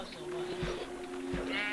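Sheep bleat in the Minecraft video game, a couple of short bleats sounding over steady background game audio with some talk nearby.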